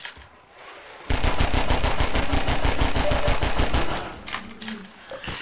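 Rapid automatic gunfire in Half-Life 2 rattles off in a fast continuous burst of about three seconds, loud and close, followed by a few scattered trailing shots and quieter game noise.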